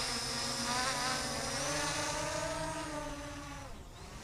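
An LYZRC L800Pro 2 GPS camera drone flies over a field, its propellers giving a steady, loud, high-pitched buzzing whine that shifts slightly in pitch as it moves and fades a little toward the end.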